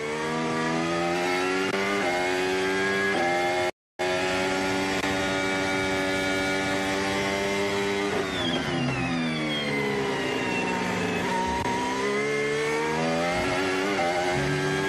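A Mercedes Formula 1 car howls out of a corner during a 2025 race, its engine note climbing and holding at high pitch before shifting and sweeping as it accelerates away. The sound is loud and continuous, with a brief cut near the start.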